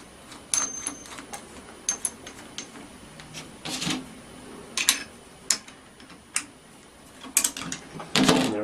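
An old bearing worked out with a larger socket, giving a string of sharp metallic ticks and clicks at uneven intervals, some close and loud, others faint, against a quiet background.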